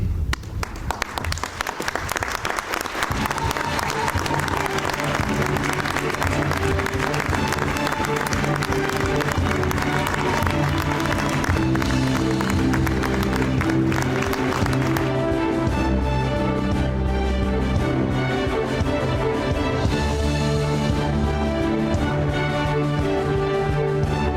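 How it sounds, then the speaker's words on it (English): A graduation ceremony audience giving a congratulatory round of applause: dense, loud crowd clapping that starts after a brief pause and carries on steadily, with music or cheering layered in toward the end. "join me in a congratulatory round of applause"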